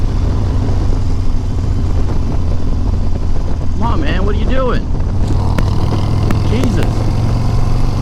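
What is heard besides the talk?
Harley-Davidson Iron 883 Sportster exhaust while riding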